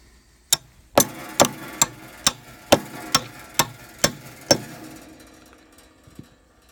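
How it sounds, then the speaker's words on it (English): A hammer taps a pin into a fence rail, about ten sharp evenly spaced metallic knocks, loud and close, then quiet. "tap it home with a hammer."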